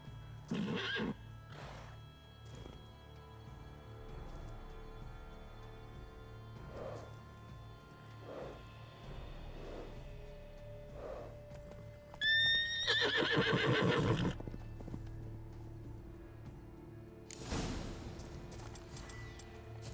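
A horse in The Witcher 3: Wild Hunt, Blood and Wine whinnies loudly in a shaky, rising call, with soft clip-clop hoof sounds and a few scattered knocks around it, set against quiet ambient background.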